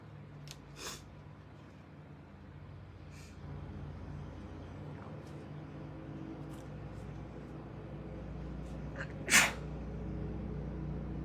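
A single sharp sneeze from a person indoors, a brief loud burst near the end standing out over a steady low background hum and a few faint sniffs and small noises.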